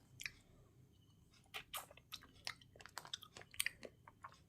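Someone close by chews a strawberry dipped in chocolate, giving quiet, irregular wet bites and squishy mastication sounds in short bursts with no talking.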